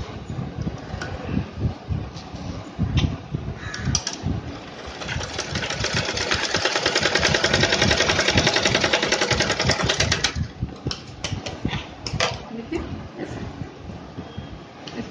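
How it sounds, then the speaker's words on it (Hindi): Sewing machine stitching the edge of a clutch purse, with short bursts of rapid mechanical whirring, then a longer sustained run in the middle and more stop-start bursts, close and fairly quiet, with no talking. "अभी मैं जस्ट एज पे भी सिला देती हूँ ताकि वो पूरी तरह क्लोज हो जाए"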